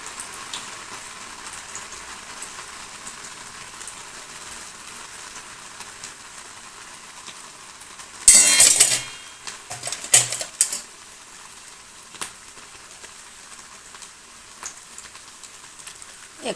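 Sabudana vadas frying in a pan of hot oil on medium heat, a faint steady sizzle with a few louder bursts of spattering and utensil clatter partway through, no voices.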